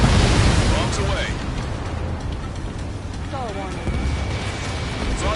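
Bombs released from a fighter jet burst in an Ace Combat 7 air-combat game, a loud, dense wash of rumbling blasts that stays heavy throughout, with radio voices and tones in the mix.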